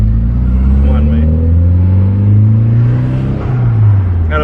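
A car engine revving hard on its first test drive after work on it, close and loud, its deep rumble rising and falling in pitch through gear changes, with voices talking over it.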